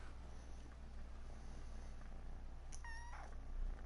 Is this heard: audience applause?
no